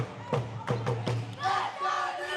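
A basketball crowd in the fourth quarter of a U13 boys consolation championship game gives loud shouts and cheers, with several sharp thuds in quick succession and a continuous roar of voices.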